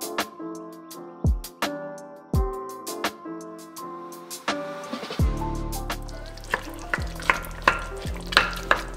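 Charred, peeled roasted tomatoes simmer in a pot for tomato soup, giving a steady bubbling sizzle with scattered stirring knocks and sharp clinks of a utensil against the pot, close and fairly loud.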